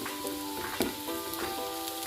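Ingredients for an egg masala, including cashews, sizzle in oil in a pan with a steady close crackle, punctuated by a few soft stirring scrapes.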